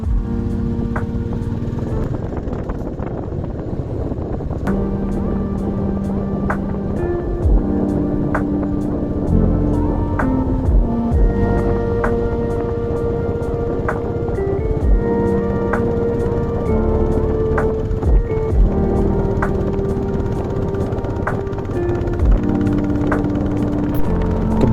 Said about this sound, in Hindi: बाइक की डुक-डुक की आवाज़ के साथ सफ़र का मज़ा और ज़्यादा बढ़ गया था